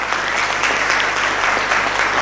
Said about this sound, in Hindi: ताली लगा दो उनके लिए जिन्होंने माना है